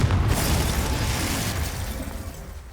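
A Confringo blasting spell from Hogwarts Legacy bursts in a loud, broad explosion with a heavy low boom at the start, then a roaring wash that slowly fades over a few seconds, with no voices.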